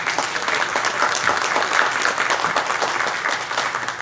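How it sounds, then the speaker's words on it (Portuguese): A hall of attendees at a Brazilian poets' and troubadours' congress breaks into sustained applause honoring a writer, with thick, even crowd clapping that stays loud and near for the full span. "Uma salva de palmas, José Caldas."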